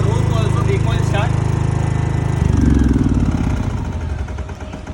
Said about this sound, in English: Ultra compact generator set, zero pollution, no vibration at all.